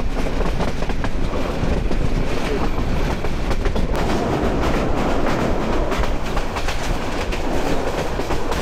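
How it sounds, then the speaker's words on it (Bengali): Mohanagar Express train on the Chittagong to Dhaka line rumbles steadily along the rails, heard from on board as loud continuous wheel noise with rhythmic clickety-clack joints and occasional rattles. "ট্রেন স্লো হয়ে যাচ্ছে, সামনে ব্রাহ্মণবাড়িয়া রেলওয়ে স্টেশন।"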